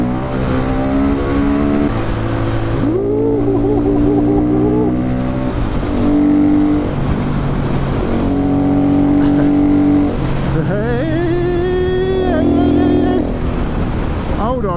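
A KTM 500 EXC supermoto motorcycle ridden on the road, its single-cylinder engine revving up and easing off through repeated gear changes, loud and close, with wind noise and a rider's voice.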